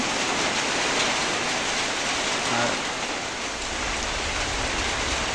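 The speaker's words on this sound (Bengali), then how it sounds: "মেঘ, একটু বাতাস এবং বৃষ্টি হচ্ছে।" Steady rain falls through the morning, pushed by a light wind, making an even broadband hiss that stays close and constant with no clear individual drops.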